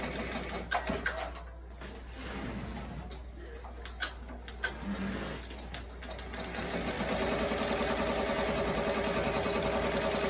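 A Ricoma MT-1501 embroidery machine stitches at about 650 stitches per minute with a fast, steady mechanical chatter, close by, settling into a constant rhythmic whir after a few clunks and taps.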